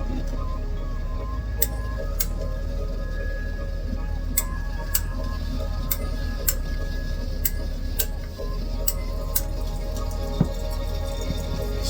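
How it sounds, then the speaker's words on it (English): A tubing cutter turns around a household water pipe during a water softener installation, giving off a steady series of sharp, light metallic clicks at an irregular slow pace over a constant low hum. "So I got my tubing cutter."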